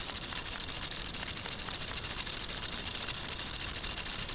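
A K'nex CVT ratchet drive buggy mechanism runs steadily, giving a continuous close rattling whir with a fine rapid ticking texture and no pauses or voices.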